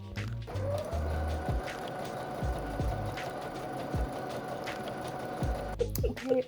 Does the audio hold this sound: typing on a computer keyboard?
no